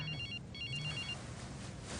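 A telephone rings in a Christmas movie scene, two bursts of classic bell trills separated by a short gap, clear and fairly close over a low room hum.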